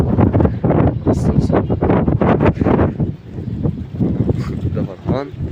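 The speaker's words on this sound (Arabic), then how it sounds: "طبعا الهوا جامد، الهوا جامد" Strong wind buffets the microphone with a constant low roar, while a person talks over it.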